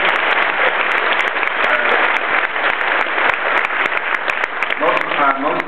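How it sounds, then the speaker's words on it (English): A crowd applauds a band at a business hall of fame induction ceremony. The clapping is sustained and fairly close, with sharp individual claps over a steady roar, and a voice starts up near the end. "give them a round of applause"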